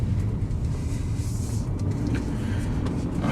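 A 2017 Mercedes-Benz E220d AMG Line estate (W213), a rear-wheel-drive diesel, pulls off snow onto a road; a steady low rumble heard from inside the cabin, with no voices.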